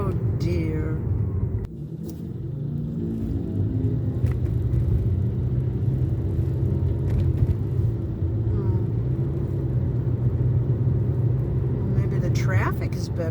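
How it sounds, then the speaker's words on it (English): Road traffic near a construction zone produces a continuous low rumble that stays fairly steady throughout, with a brief sharp knock early on. "Here's the traffic sitting in my way."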